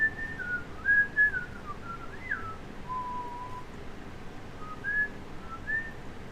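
A person whistles a short melodic tune in a quiet room while working on a chameleon resin ocean pour, with several clear rising and falling notes spread across the phrase and no talking.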